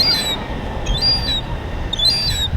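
Seagulls at Mallaig port give thin, high squawking calls in a few short bursts over a steady rumble of wind or harbour noise.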